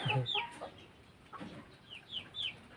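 Chickens cluck several times in short, irregular bursts close by, with some higher squawky calls mixed in.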